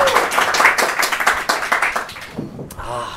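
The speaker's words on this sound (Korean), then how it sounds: "응원의 박수 한번 부탁드리겠습니다." A group claps rapidly and loudly for a couple of seconds, then the clapping fades as a voice speaks at the end.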